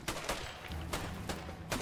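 Gunshots in the video game A Way Out, five or six sharp separate shots spaced irregularly over about two seconds, moderately loud above a low background.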